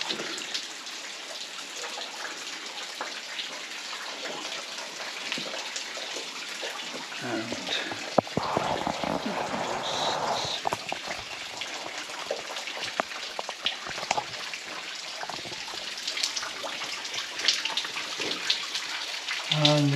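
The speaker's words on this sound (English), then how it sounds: "As you can hear the dripping." Water dripping inside a tunnel of an old slate mine, faint irregular drops against a steady watery hiss with soft rustling, quiet and echoing.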